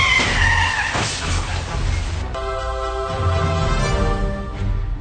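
A car skids hard before crashing into a truck in a radio drama: long screeching tire squeal over engine noise, followed by a sustained harsh tonal scrape, with no talking.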